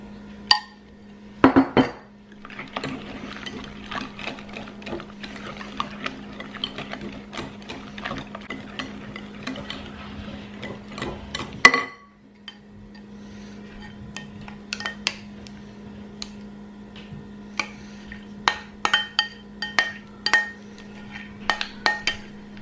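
Metal whisk beating custard into mascarpone cheese in a bowl for tiramisu, rapid scraping clatter for about nine seconds, then a loud clink and scattered taps against the bowl over a steady low electrical hum.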